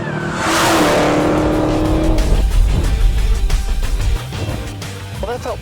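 Dodge Challenger SRT Hellcat launching on a quarter-mile drag run with brief wheelspin before traction control cuts in, a loud close engine roar climbing through gears, with tire noise over a steady heavy rumble.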